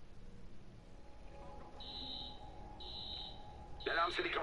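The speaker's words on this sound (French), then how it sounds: "L'alarme s'est déclenchée." Alarm in the video game Watch Dogs: two sustained high electronic tones sound one after the other over a low game background, followed by a burst of voice.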